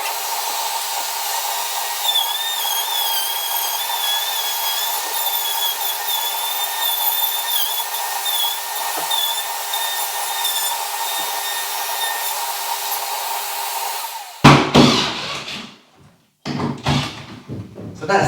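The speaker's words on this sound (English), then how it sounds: "Okay, so I'm going to start with the router here." A router cuts into a wooden door frame with a loud, steady high-pitched whine that holds for many seconds, then gives way to clattering, knocking handling noises and a brief pause.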